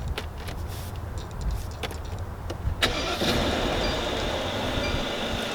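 A Mercedes S-Class engine starting: a few faint clicks give way to a sudden crank and catch near the three-second mark, then a steady, fairly loud idle hum that continues with no one talking.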